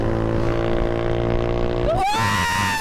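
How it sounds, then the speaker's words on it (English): A Honda Grom mini motorbike engine drones steadily while riding, then revs upward in a rising whine as it accelerates, loud and close throughout. "riding on the motor bike, riding on the motor bike"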